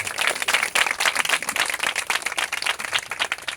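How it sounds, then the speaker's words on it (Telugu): Congregation at a church service clapping loudly in a dense, sustained burst of applause that fills the room evenly from start to finish, with no voices rising above it. "చప్పట్లు కొట్టండి గట్టిగా."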